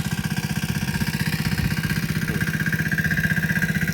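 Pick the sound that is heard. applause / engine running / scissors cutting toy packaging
engine running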